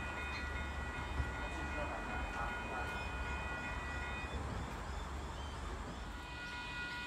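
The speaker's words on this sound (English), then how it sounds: "H32 departing for Hamilton." The H32 passenger train departs Koolewong station for Hamilton on the Western Line, a steady low rumble and hum of the moving train with faint tonal whine, heard at moderate distance throughout.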